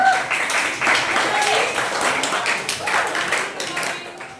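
Classroom applause, a steady patter of many hands clapping together, mixed with voices talking over it throughout.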